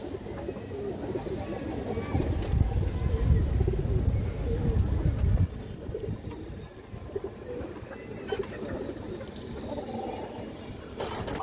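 Female Sapchila pigeons from an old bloodline coo softly at a loft, low throaty calls overlapping with rustling and louder handling noise early on.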